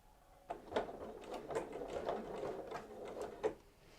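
A sewing machine stitches fabric for hanging storage pockets: a faint, quick rhythmic clatter of needle strokes that starts after a short pause and continues steadily, with a few louder taps along the way.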